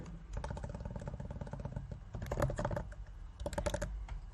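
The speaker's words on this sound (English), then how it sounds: "type in my password" Password being typed on a computer keyboard: a steady run of close, rapid key clicks with a second quicker burst of taps, no voices.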